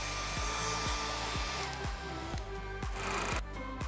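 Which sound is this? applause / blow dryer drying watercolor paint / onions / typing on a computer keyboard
blow dryer drying watercolor paint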